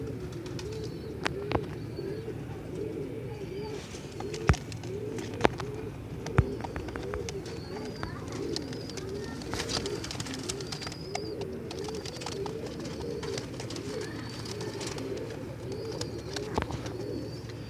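Pigeons cooing steadily in a soft, continuous chorus at a Sunday bird market in Multan, with a few sharp clicks and taps scattered throughout.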